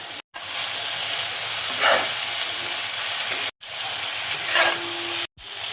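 Potatoes land in hot oil and cooked-down spice paste for a fish curry, giving a loud, steady sizzle and hiss in close view, broken by brief gaps, with stirring swells rising twice and no talking.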